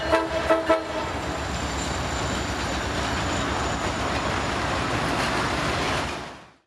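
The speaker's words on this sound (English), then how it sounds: "Even the train went past while we were watching." An Alaska Railroad train rumbles past up close, steady clattering of wheels on rails with a brief horn-like tone at the start, fading out at the end.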